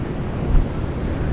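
Ocean surf rolling onto Black Sand Beach in Iceland, a steady low roar of breaking waves with wind buffeting the microphone, one slightly louder surge midway and no voices.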